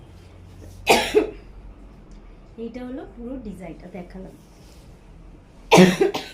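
Two sharp, loud coughs from a woman with a cough, one near the start and one near the end, with her speaking briefly in between.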